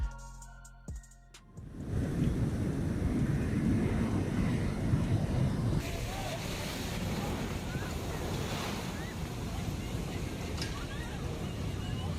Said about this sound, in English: leading to a tidal wave of water, mud, and debris